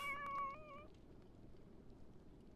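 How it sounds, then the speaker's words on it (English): A pet cat in The Sims video game lets out a sharp, agitated meow with a few quick repeated cries at the start, then fades to faint game ambience. "The cat is freaking out about something."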